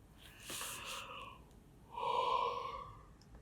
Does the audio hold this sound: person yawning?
yes